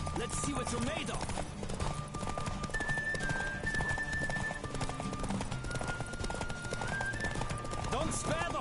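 Galloping hooves pound in a quick even rhythm during a Witcher 3 horse race, close and constant beneath music and voices calling out.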